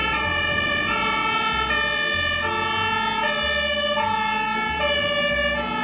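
A loud fire truck siren sounds close and alone, alternating steadily between two pitched tones.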